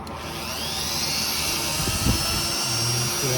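A lathe spinning at 1500 RPM while grinding bicycle wheel bearing cones gives a steady, loud machine whine with broad high-pitched grinding noise. Brief low thumps come through near the middle, and no one speaks.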